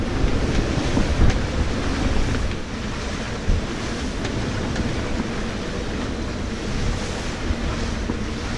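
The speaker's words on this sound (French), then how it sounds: "On se ramasse 34, 35 nœuds de vent en permanence." Strong wind of 34 to 35 knots roars over a rough sea off Cap Corse, Corsica, with waves crashing and buffeting gusts against the microphone, loud and continuous.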